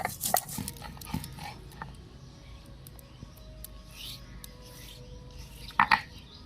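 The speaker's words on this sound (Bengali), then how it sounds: "গোটা জিরাটাও আমি বেটে নেব।" Whole cumin seeds ground by hand on a grinding stone give soft, repeated rasping scrapes, quiet and close. A brief, sharper gritty burst comes near the end.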